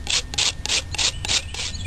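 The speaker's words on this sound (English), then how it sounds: "You just want to keep your knife angled like this when you're scraping" A knife blade scrapes along a dogbane stalk in six steady, rhythmic strokes, each a close, rasping swipe, with no talking.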